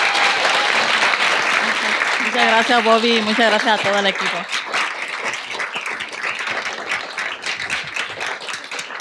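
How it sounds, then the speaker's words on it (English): An audience applauds steadily for Floricel, the clapping loud and sustained under a speaker's voice, which carries through most of the stretch. "Can we give a round of applause for Floricel?"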